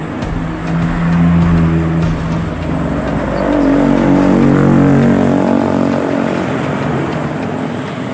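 Sinar Jaya buses roll past on the busy Ajibarang main road, a heavy engine rumble swelling loud and close, then easing away under steady traffic noise.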